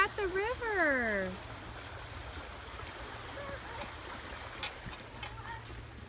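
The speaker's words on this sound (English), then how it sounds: "The water's going really fast though." A fast-flowing river passing under a bridge at a nature site, a steady broadband rush that continues throughout, moderately faint, with a brief sweeping tone at the start and scattered small knocks later.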